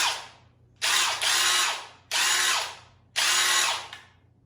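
A RIDGID 18-volt cordless drill from a drill and impact driver kit whirs in three loud, close bursts of about a second each as the trigger is pulled and released, with brief quiet gaps and no talk.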